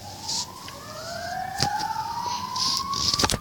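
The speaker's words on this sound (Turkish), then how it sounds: "dışarıdan ambulans veya polis" Emergency siren from outside, ambulance or police, sounding during a Minecraft Hunger Games session: a steady tone slowly sweeping upward in pitch, fairly close and loud over a busy background, with scattered clicks and short bursts of noise.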